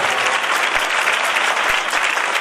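A church congregation clapping hands together during a Christmas service, loud and dense with a few sharper claps and thumps standing out over the steady roar.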